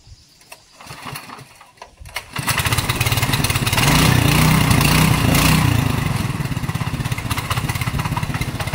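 A farm tractor, used for paddy sowing in the Konkan, starts after a few quiet seconds of faint knocks, then settles into a loud, steady, close engine run.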